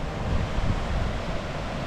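A steady, broad rushing of a mountain river in the Pyrenees fills the whole clip, constant and fairly loud with no voices.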